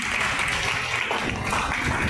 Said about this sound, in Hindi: इनके लिए साथियों जोरदार तालियां होंगी